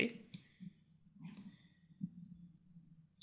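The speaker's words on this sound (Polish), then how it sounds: "Kliknę OK." Mouse clicks on a computer while working in Microsoft Word 2010, a few soft, close clicks spaced through the moment amid quiet room tone.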